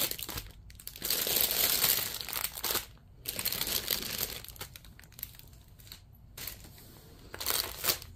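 Plastic packaging of a cross stitch kit crinkled and crushed by hand in bursts with short pauses between, close and fairly quiet, no speech.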